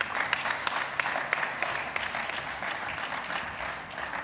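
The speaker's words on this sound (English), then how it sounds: "A round of applause for them as they leave the stage" Audience applause at a Lightning Network talk as presenters leave the stage, a dense steady wash of many hands clapping with sharper individual claps popping out, fairly loud and continuous throughout.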